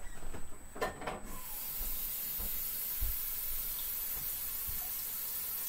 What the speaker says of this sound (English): Alright, we gotta add water.